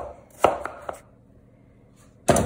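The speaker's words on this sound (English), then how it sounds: "So I'm chopping away. I'm going in a little bit thinner slices." A knife chops apple slices on a cutting board for an apple pie, with a quick run of sharp thuds followed by a pause and one more loud chop, close by.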